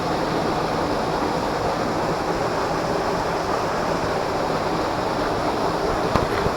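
The Odugathur Thottiparai waterfall in Tamil Nadu pours over large rocks with a loud, continuous rushing roar that stays steady throughout, with no voices.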